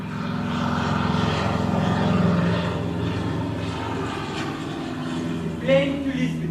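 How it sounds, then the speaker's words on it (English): A propeller plane bound for Lisbon in the film Casablanca drones overhead, its steady engine hum swelling and fading while film dialogue and background voices carry on beneath it. "Plane to Lisbon."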